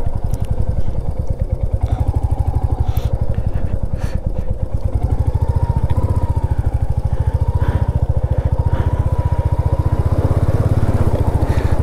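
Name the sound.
motorcycle engine while riding out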